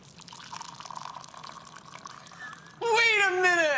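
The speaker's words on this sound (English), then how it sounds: "I'm blindfolded to see if cold water sounds different from hot water" Water is poured, first in a soft faint trickle and then, near the end, in a louder, brighter stream with a rising pitch as a vessel fills, heard alone without any talk.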